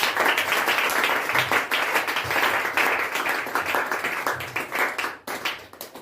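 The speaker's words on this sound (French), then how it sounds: "Est-ce qu'on peut acclamer pour le roi de roi?" Church congregation applauding and cheering, dense steady clapping close by that stays loud for several seconds before thinning out near the end.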